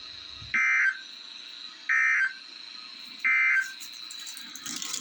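A NOAA Weather Radio warning alarm test sends three steady, evenly spaced electronic tones, each about a third of a second long. A faint constant tone runs underneath, and noise comes in at the end.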